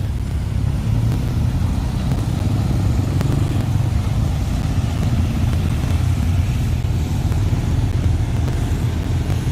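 Motorcycles riding past on an evening street in Petaluma, a continuous low engine rumble holding steady throughout, fairly loud and close, with no talking.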